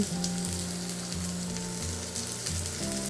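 Gravy for a drumstick dish is stir-fried in a pan with a loud, continuous sizzle and steady scraping as it is stirred, close up, over a low tonal hum, with no talking.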